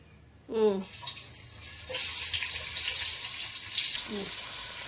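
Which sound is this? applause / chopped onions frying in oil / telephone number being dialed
chopped onions frying in oil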